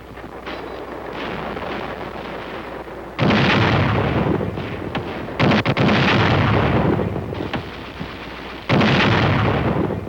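Heavy Korean War battlefield fire from a bazooka and an 81mm mortar, with loud booming blasts and rumbling bursts that swell and fade in waves, no voices over it.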